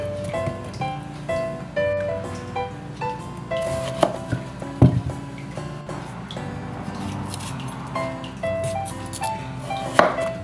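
A partly frozen chayote is sliced lengthwise with a knife, giving a few crisp chopping knocks, with one louder cut midway and another near the end, set under steady background music.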